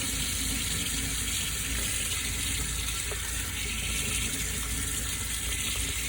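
A paintbrush rinsed under a running tap, a steady close rush of faucet water splashing into a sink that holds throughout without speech.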